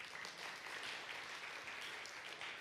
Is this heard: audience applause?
yes